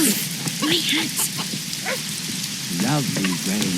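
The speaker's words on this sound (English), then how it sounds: "Lovely rain." Steady hiss of rain falling in the video game The Witcher 2: Assassins of Kings, a constant wash of droplets beneath a voice speaking over it.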